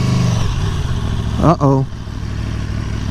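A sport motorcycle's engine drones steadily while being ridden, with a brief spoken exclamation from the rider midway.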